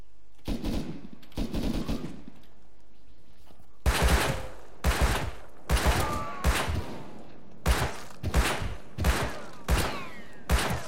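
Gunfire in the battle royale mode of Rust comes in loud, close bursts. A couple of spaced shots open, then rapid volleys follow in several distinct clusters separated by brief silences.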